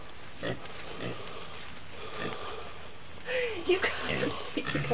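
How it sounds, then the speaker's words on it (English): Soft pig grunts and snuffles in a residential yard, with a patter like light rain and faint voices nearby. "There's a lamb and a pig in our yard."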